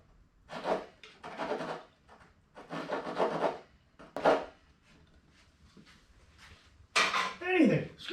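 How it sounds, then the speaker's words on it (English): Small saw blade scratching three lines into birdhouse wood, heard as a few short, dry rasping strokes up close, followed by a louder scraping slide near the end. "Just take anything and scratch in there."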